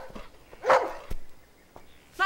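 A dog barking in a few sharp bursts, fairly close and moderately loud, with quiet gaps between barks.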